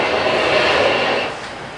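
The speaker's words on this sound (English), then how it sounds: "These trains are quick." Fast trains rushing past in a steady broadband roar that holds loud and then eases slightly toward the end, with no talk over it.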